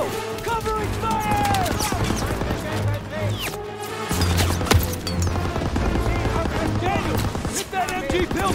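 Covering gunfire in Call of Duty: WWII, a dense rattle of rifle and machine-gun shots loud throughout, with squad voices shouting over the battle noise.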